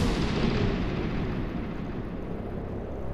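Gunfire and blasts rumble in XCOM: Chimera Squad, a loud, booming burst at the start that rolls into a sustained, slowly fading roar, with no voices.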